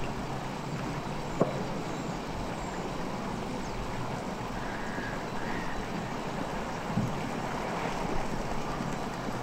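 Rushing water of a waterfall fills the scene as a dense, continuous roar, steady and close with no pauses, broken only by a couple of faint clicks.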